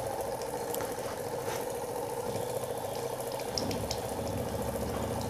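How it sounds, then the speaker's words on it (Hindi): Water runs from a newly fitted UV assembly on a Kent RO purifier into a glass, a continuous soft hiss and trickle with a low hum beneath it. "देखिए अब धीरे धीरे इससे पानी आने लगा है, अब फिर धीरे धीरे इसका पानी का रफ्तार तेज़ हो रहा है"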